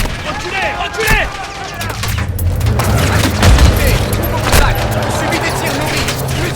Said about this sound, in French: Subis des tirs nourris, plusieurs victimes.